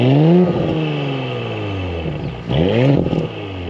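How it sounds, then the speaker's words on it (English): A 2021 Audi S5 3.0T Premium Sportback with turbocharged engine and quattro all-wheel drive revs through its exhaust, rising and falling in pitch twice, close and loud, with no talking. "I had to stop talking so you could hear the exhaust, just a gorgeous sound."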